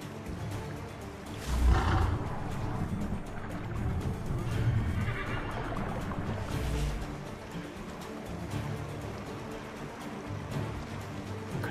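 A horse in Assassin's Creed 3 lets out a neigh amid game ambience, a couple of rough whinnying bursts over a low steady rumble of wind and background noise.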